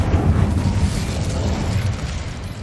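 Incendio fire spell cast in Hogwarts Legacy, a steady roaring burst of flame with a heavy low rumble that stays loud and dense for a few seconds before easing slightly.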